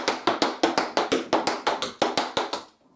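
Tap shoes beat out walking flaps in a tap dance routine, a steady run of about fifteen crisp, evenly spaced metallic taps, close and loud, with no talking.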